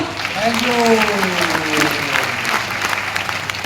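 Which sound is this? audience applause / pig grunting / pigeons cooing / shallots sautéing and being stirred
audience applause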